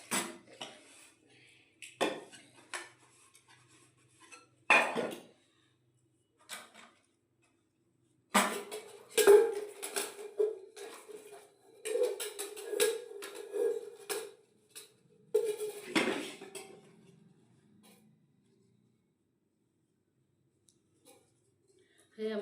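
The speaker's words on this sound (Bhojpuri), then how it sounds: "जल्दी जल्दी बर्तन धुल लेंगे" Dishes, pots and cutlery being washed by hand at home, intermittent bursts of metallic clinking and scraping separated by quiet pauses, with a voice speaking now and then.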